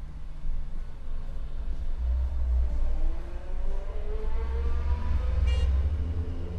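A Tesla Semi electric big rig with four motors accelerates hard from a standstill, a rising whine climbing in pitch over a steady low rumble.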